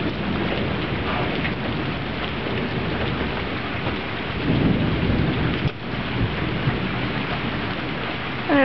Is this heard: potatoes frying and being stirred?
no